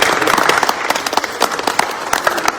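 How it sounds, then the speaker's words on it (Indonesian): Audience applause at a talk on men's role in daily life, a burst of many sharp hand claps that is loud at first and then thins into scattered claps. "Tepuk tangan buat Exo"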